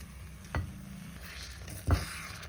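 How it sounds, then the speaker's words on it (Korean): Shrimp stir-fried in a pan with konjac rice, a soft continuous sizzle broken by two dull thumps of the spatula against the pan, quiet and close, without talk. "불을 약간 줄이고 새우가 있고 이 물기가 좀 사라질 때까지 계속 볶아줄게요"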